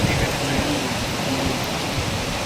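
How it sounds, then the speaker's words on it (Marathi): Heavy rain pouring outside an office window during a downpour, a steady dense hiss of falling water filling the whole stretch, close and loud with no break. "एकदम जोरात पाऊस आहे."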